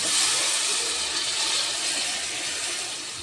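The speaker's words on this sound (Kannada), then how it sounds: "ಈಗ ನೋಡ್ರಿ ನೀರು ಹಾಕ್ತೀನಿ ರೀ" Water pours steadily into a cooking pot while chicken biryani is being prepared at home, a continuous close rushing splash that fades slightly toward the end, with no talking.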